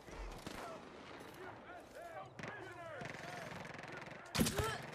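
Gunfire in the video game Far Cry 5 ends in a headshot, with a loud, sharp burst near the end following steady game noise and scattered sounds. Voices talk over the action.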